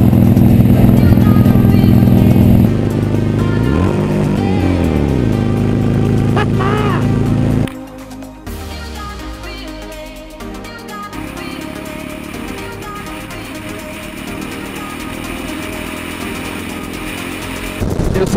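Motorcycle engines rev and roar loudly, shifting pitch as bikes accelerate and pass, with music playing over the engine noise throughout.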